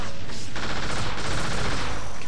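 Dense, loud gunfire in the video game TimeSplitters 3: Future Perfect, a continuous fusillade of rapid shots close up that fills the whole moment, with no voices.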